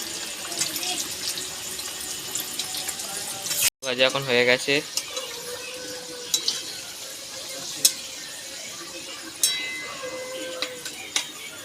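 Onions tipped into a hot pan, crackling and sizzling with a wet, running-water-like rush, a sharp burst at the moment they land, then steady frying broken by occasional stirring clinks.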